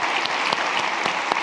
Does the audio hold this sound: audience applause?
yes